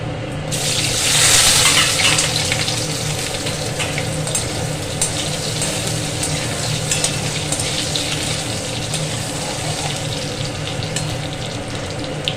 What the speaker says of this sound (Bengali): আলুগুলো ভেজে নিই।